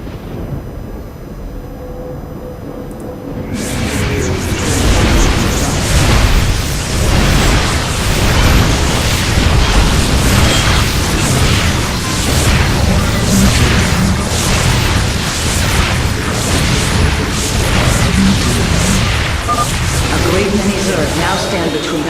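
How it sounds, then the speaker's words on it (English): Cannon fire and explosions in the real-time strategy game StarCraft 2, with Protoss warriors focusing fire on a hybrid while defending a temple; dense, continuous booming and bursts after a quieter opening, loud throughout and partly under in-game voices. "Warriors, focus all cannons on the hybrid."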